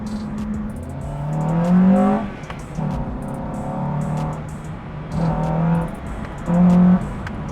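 A Honda Civic Si revs hard under wide-open throttle in repeated pulls, its engine note climbing and dropping between gear changes, loud and close from inside the car.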